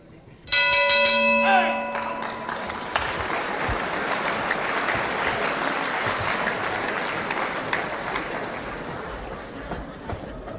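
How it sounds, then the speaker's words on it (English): A boxing ring bell rings loudly at the start of round one of a heavyweight bout, a single clear clang that fades after about a second, followed by steady crowd noise and applause throughout. "Right on the bell now of round one."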